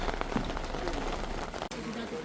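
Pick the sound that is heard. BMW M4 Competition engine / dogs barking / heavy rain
heavy rain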